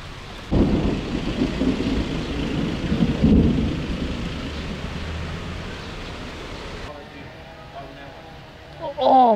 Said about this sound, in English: That was a huge lightning strike.